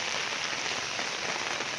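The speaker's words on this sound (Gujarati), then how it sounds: "આ બાજુ પણ હજુ વરસાદ બંધ થવાનું નામ દેતું નથી" Heavy overnight rain pours steadily over flooded farm fields, a dense, even hiss of drops on surfaces with no pauses and no voices.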